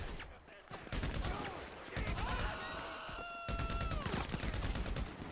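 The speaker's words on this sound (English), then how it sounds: "how many times I gotta shoot you?" Rapid gunfire in GTA 5 rings out as dense bursts of automatic shots that run almost continuously, with a short pause and siren-like tones in the middle, and a voice speaking over the shooting.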